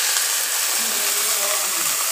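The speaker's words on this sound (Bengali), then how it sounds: "আমি এখন এতে দিয়ে দিচ্ছি সামান্য পানি।" Water splashed onto fried onions in a hot pan gives a steady, close hiss of sizzling steam that holds evenly throughout, with no talking.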